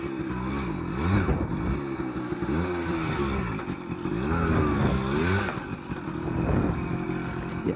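A two-stroke engine on a restored, modified classic Max R100 motorcycle runs steadily throughout, revving and pulling with a buzzy, rattling tone as the bike rides along, close and loud.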